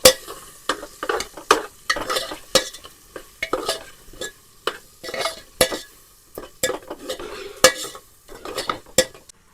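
A spoon scrapes and clanks against a pot as chili is stirred into an eggplant and potato curry, irregular but steady strokes with soft sizzling between them, close and without voices.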